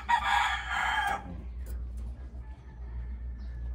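A large rooster crows close and loud in a single call lasting about a second, followed by quiet low background hum and faint scattered sounds.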